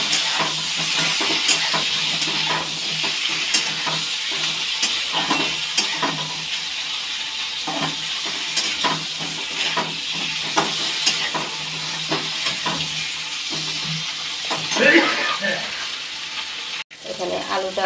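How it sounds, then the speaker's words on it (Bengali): Potatoes fry in hot oil with salt and turmeric, a steady close sizzle broken by frequent scraping stirs of the spatula against the pan. "নুন দিয়ে দিচ্ছি, নুন হলুদ দিয়ে একটু ভেজে নেব।"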